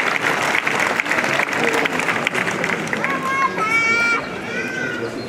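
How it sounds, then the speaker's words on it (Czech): An audience applauds to welcome a guest at the closing ceremony of a folk festival in Strážnice, steady clapping from a crowd with voices over it, fading toward the end. "Klidně ji přivítejte potleskem."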